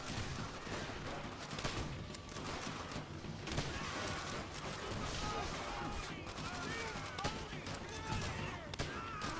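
Gunfire erupting in an ambush in the World at War video game, dense bursts and volleys crackling continuously for several seconds, with voices shouting over the shooting.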